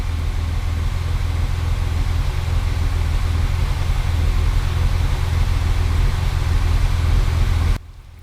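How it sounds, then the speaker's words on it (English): A Mercedes 220S with a new factory-style three-muffler exhaust idles in a steady, low, quiet rumble with a slight pulsing beat, then cuts off abruptly just before the end. "it also kind of ends up a little bit of a pulsing sound at an idle"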